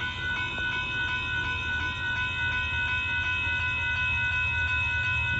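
A northbound Union Pacific intermodal freight train rolls past at Dittmar Road in Austin, Texas, a steady loud rumble with sustained ringing tones, likely a crossing bell or horn, running continuously throughout.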